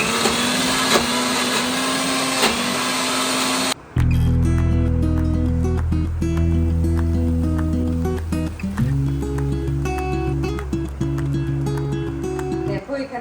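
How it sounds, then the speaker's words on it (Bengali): Soaked lentils being ground for dal bara in a loud electric grinder, a steady whirring motor roar that starts abruptly, runs close and continuous with slight shifts in pitch. "এখন উঠে ডাল বড়ার জন্য ডালটা বেটে নিচ্ছি।"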